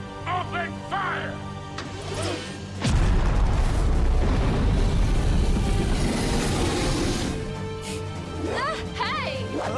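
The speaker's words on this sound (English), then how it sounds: "Heavy cannon, open fire!" A loud booming blast bursts out and rumbles for several seconds over music and shouting voices, like a heavy cannon firing.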